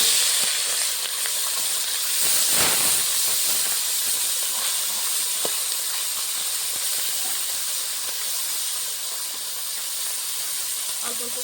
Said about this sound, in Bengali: মেখে রাখা মাছগুলো ভেজে নেব